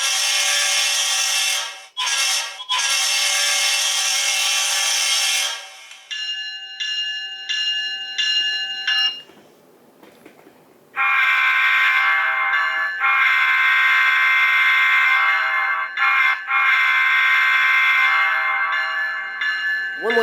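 A Scaletrains HO-scale ES44 GEVO model locomotive with sound plays its onboard effects: a loud sustained tone, a repeating bell-like pattern, then a long steady horn blast, all close and continuous.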